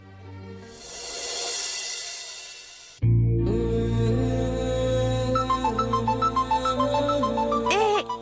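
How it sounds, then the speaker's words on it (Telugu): A mobile phone ringtone plays for an incoming call, a rhythmic, repeating electronic melody that starts abruptly and rings steadily for several seconds after a brief stretch of softer background sound. "అమ్మ ఫోన్ చేస్తుంది, ఒక నిమిషం ఆపు."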